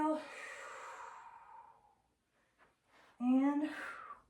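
Long audible exhale during a core-rebuilding exercise, then a pause and a second breathy, voiced breath, close and fairly soft.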